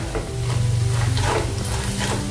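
Chana dal curry fries in plenty of oil, giving a close, continuous sizzle as it is stirred in the pan, with nobody speaking.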